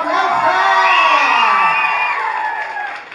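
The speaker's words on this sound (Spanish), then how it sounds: "Yo quiero ver cómo aplaude y grita el equipo número uno." A children's team shouts and cheers together at a group game, a loud sustained chorus of high voices that stays strong, then tapers at the end. Individual claps do not stand out.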